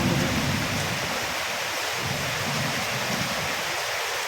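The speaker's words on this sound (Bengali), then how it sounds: "মুসলধারে বৃষ্টি হয়ে যাচ্ছে" Heavy monsoon downpour: a dense, steady roar of rain hissing continuously and loudly throughout, with no voices.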